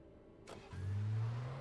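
Car engine in the Alan Wake video game starting up and revving, a deep steady hum that rises abruptly after a short whoosh and then holds at a low, fairly loud drone.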